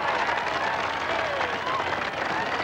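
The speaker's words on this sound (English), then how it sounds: "how about a big round of applause for our pickup team here this afternoon?" A rodeo crowd applauds the pickup team in a sustained wash of clapping and cheering at an afternoon arena event, steady and moderately loud throughout.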